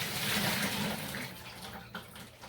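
Water poured into a fish tank while fish are acclimated, a steady rushing splash that is loudest at first and then thins and tapers off, with no talking.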